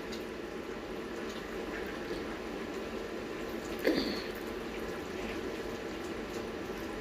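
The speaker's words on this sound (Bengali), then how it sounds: "এখানে আমি পরিষ্কার করে পোলার চালগুলো ধুয়ে নিচ্ছি" Rice for pulao being washed by hand in water, a faint, steady wash of sloshing and trickling with one brief louder splash partway through; no voices.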